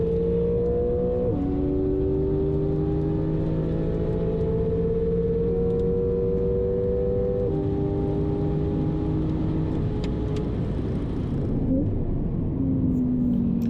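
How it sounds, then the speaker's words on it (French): A Porsche 4S accelerates hard down a straight nearly a kilometre long, its engine drone climbing steadily in pitch through several gear changes, loud and continuous with a steady rumble underneath. "en accélération pure sur la ligne droite de presque 1 km, la 4S tient le rythme sans problème"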